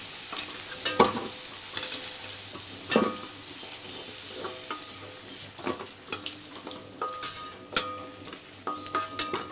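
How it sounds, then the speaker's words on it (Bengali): Potatoes fry in a pan, giving a steady sizzle broken by repeated clinks and scrapes of stirring, close and moderately quiet. "এদিকে আলুগুলো আমার ফ্রাই করা হয়ে গেছে এগুলো তুলে নেব"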